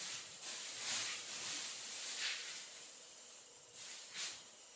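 Puri bread dough frying in hot oil before dawn, a steady soft hiss of sizzling with gentle swells, heard alone without talk.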